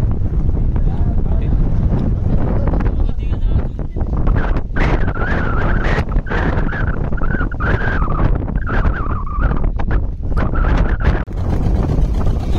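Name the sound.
boat setting off for trolling, with wind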